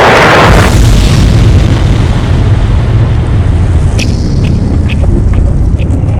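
A large meteor strikes the ground in a massive explosion: a loud, deep rumbling boom that swells at the start and rolls on as a continuous low roar, with faint crackling debris later.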